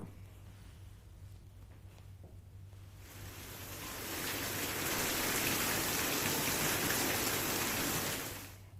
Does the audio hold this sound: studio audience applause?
no